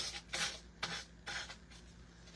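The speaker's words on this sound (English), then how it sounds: "I'm just gonna take one of my gator sanders, and we're gonna go along the edge here, and I'm just gonna sand off all of that excess paper" A hand-held gator sander scrapes along the edge of a wooden cutting board, taking off excess paper in three or four short, soft rasping strokes, close and fairly quiet with pauses between passes.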